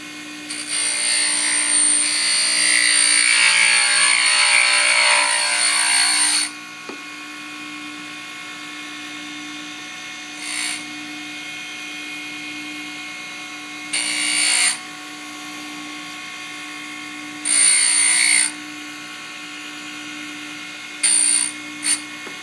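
An end mill being ground on a tool grinder, a loud steady grinding whine for several seconds, then quiet hum with short repeated bursts of grinding as the wheel touches the cutter again.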